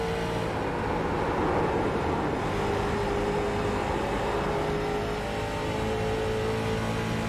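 NASCAR race car engine at Homestead held on throttle, a steady loud droning roar with shifting pitch and a crowded, continuous texture, probably with other cars nearby.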